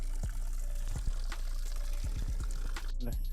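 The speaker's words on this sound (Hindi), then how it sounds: "गाइस देखो पानी कहाँ से आ रहा है, सीधा वहाँ पत्थर के बीचों बीच से ना" Stream water flows out from between rocks in a small channel with a continuous pouring trickle, close by, while a person speaks over it with some clicks and handling knocks.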